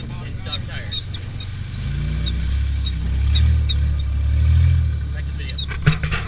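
A BMW 325i, a two-wheel-drive car with an open differential and stock tires, rumbles through off-road trails at Windrock park, its low engine note swelling and easing steadily, with a sharp knock near the end.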